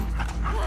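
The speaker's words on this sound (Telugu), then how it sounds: "కుక్కొస్తుంది" A dog in The Last of Us Part 2, played on a PS4 Pro, gives short yipping, whimpering barks that sound close and loud over a low rumble of game ambience.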